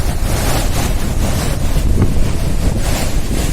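Roaring spray of the Rishiganga waterfall near Badrinath, with strong wind blowing the water and buffeting the microphone in a loud, continuous rush.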